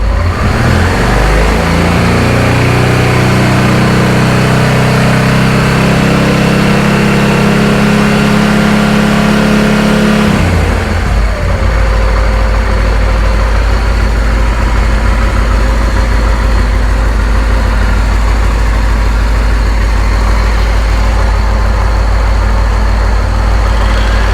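A Honda Transalp XL600V motorcycle engine under carburettor synchronisation, loud and close, revving up and holding high revs for about ten seconds before dropping back to a steady idle.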